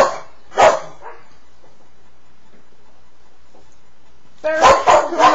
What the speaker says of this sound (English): She is a noisy dog.